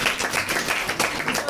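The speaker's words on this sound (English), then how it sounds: "Clap for this one." Students in a high school classroom clap together in a brisk, rhythmic burst of applause lasting a second or two, close and fairly loud, with no talk over it.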